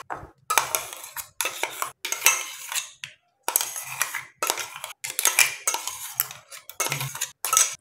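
Mango being folded into whipped cream in a bowl, heard as bursts of utensil scraping and clinking against the bowl in uneven strokes with short pauses, close and unaccompanied by talk.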